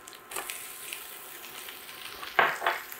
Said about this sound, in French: une fois que nos petits lardons de bacon, nos petits morceaux de bacon sont presque à demi-cuits, on va rajouter l'oignon